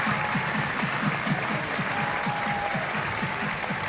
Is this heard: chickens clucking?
no